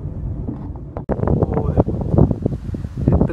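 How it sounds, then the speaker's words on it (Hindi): Cold wind buffets the microphone while driving through a tree-lined hill area in Himachal Pradesh, a loud, continuous rushing gust with rustling bursts, and no clear talk over it. "इतनी ठंडी हवा चल रही है ना, बता नहीं सकता."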